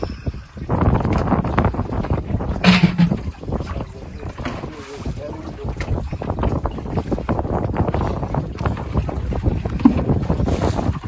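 A fishing boat's motor runs on open water, a continuous rumbling drone mixed with heavy wind buffeting the microphone and sea noise throughout.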